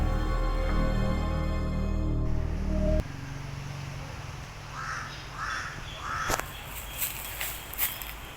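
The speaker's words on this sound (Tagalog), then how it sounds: "Uwak yun ah." Crow caws repeat three times in quick succession, fairly distant, over a steady outdoor hiss, followed by scattered rustling and thumps.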